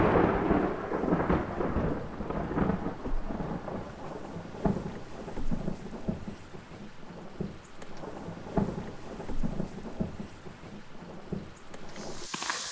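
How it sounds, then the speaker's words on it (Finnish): Rain falling in a remote North Karelian backwoods forest during a thunderstorm, with a steady hiss of rain and repeated low rumbles of thunder rolling in and out, no voices. "Nyt se sitten alkoi sataa."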